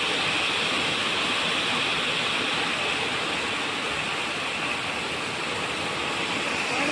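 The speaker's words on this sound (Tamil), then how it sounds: "இங்கே வந்து பயங்கரமாக மழை பெய்யறதுனால சத்தம் கேட்க மாட்டேங்குது." Heavy rain in Thoothukudi district, India, pours down in a dense, unbroken roar that stays constant and loud from start to finish.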